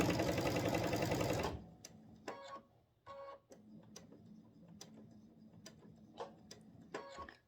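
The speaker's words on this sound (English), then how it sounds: "I'm going to go ahead and stitch until I get to that point" A sewing machine stitches a quilt border on a Kimberbell table topper, starting with a loud, dense run of stitching that cuts off abruptly, followed by quiet sparse clicks and short ticking bursts.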